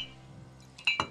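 Drinking glasses clink together in a toast, two sharp, bright chinks close together near the end after a quiet moment.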